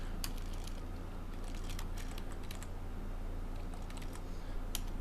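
Someone types on a computer keyboard, producing scattered bursts of light clicks over a steady low background hum, with no talking.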